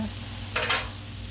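Pork chops searing on a Blackstone griddle, a steady low hiss with a brief louder burst of sizzle in the middle, close by and with no talking.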